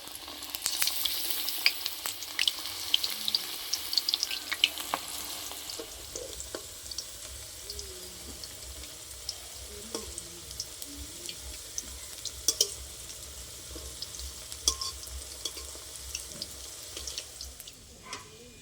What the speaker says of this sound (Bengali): এবার আমি এক এক করে কড়াইয়ের তেলে দিয়ে দেবো। তেল গরম হয়ে গেছে।